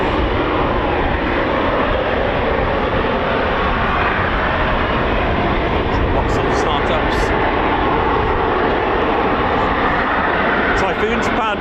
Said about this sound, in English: Typhoons powered by 2 EJ200 engines